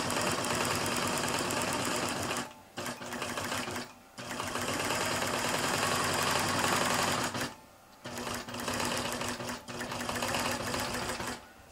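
A computerized quilting sewing machine stitches an appliqué with a background fill of rays, a loud steady mechanical whir with rapid needle chatter that stops briefly three times before resuming.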